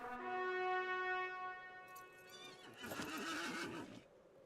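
A horse in the video game Lord of the Rings Online lets out a long, loud, wavering neigh that rises and falls, followed by a snort and hoofbeat clatter near the end, with no talk.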